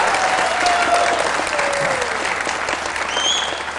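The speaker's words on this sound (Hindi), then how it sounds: "तालियां बजाएं" A studio audience at a cricket-themed Pakistani talk show gives loud, continuous applause with cheering voices and faint whistles mixed in.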